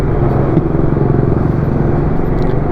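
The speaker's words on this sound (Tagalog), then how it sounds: "So ang gamit na ko nga motor karon guys is Honda PCX" A 2-year-old Honda PCX 160 scooter ridden along a coastal road, its engine giving a steady, loud droning rumble with constant wind noise throughout and no pauses.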